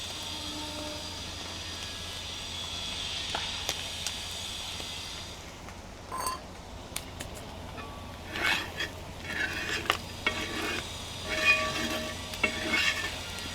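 Beef fry being sautéed in a pan with crushed fennel seeds, giving a steady low sizzle broken by intermittent scraping and stirring clatter as a spoon works the meat around the pan.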